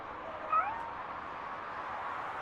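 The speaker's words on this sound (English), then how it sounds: "It sounds like an orange cat." Cat meowing in the video game RoboCop: Rogue City, a single short meow over a steady background hum of game ambience, moderately quiet and alone without talk.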